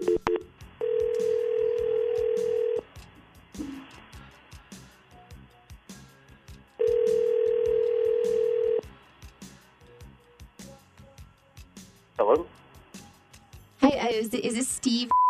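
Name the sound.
telephone ringing on an outgoing call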